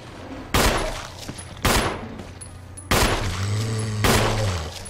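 Four loud, sharp gunshots from the survival horror game Resident Evil HD, spaced about a second apart, each cracking out and ringing briefly, with a low droning moan between the later shots.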